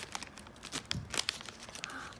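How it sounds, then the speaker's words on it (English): Crinkly plastic and cardboard packaging of a TV dinner being cut open with scissors, a run of close, sharp rustles and snips with brief tearing bursts, no talking. "Here are my scissors. Let me cut it open."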